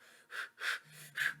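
Quick, fast-paced breathing from the Five Nights at Freddy's 4 horror game, three or four short breathy bursts in close succession, fairly faint with no talking over it.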